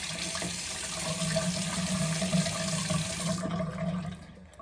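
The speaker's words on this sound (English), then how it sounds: "I'll rinse it off with some warm water again" Warm water runs steadily from a tap, rinsing a cleaned tenor saxophone part in a continuous splashing stream that stops abruptly near the end.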